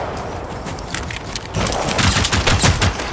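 Rapid gunfire from a powerful firearm in Generation Zero, loud and close, with a dense burst of repeated shots that intensifies in the second half.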